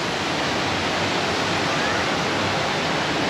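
Water from a stream near Gangtok in East Sikkim rushing past, a loud, steady broadband roar with no pauses and no voices.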